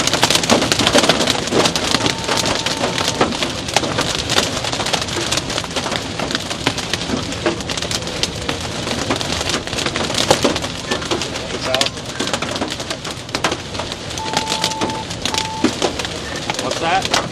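Small hail, like BBs, rattles loudly on a car with no soundproofing during a Kansas storm, a dense continuous clatter with a few brief tonal chirps over it.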